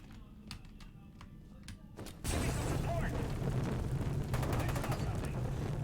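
Incendiary grenade in F.E.A.R. 2 bursting with a sudden loud blast into a sustained roaring burn, following a quieter stretch of sparse clicks and taps.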